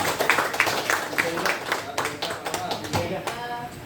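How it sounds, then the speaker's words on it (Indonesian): An audience at a teachers' dissemination session claps in a modest round of applause, with scattered sharp claps and voices talking over them. "mungkin tepuk tangannya sekali lagi Bapak Ibu"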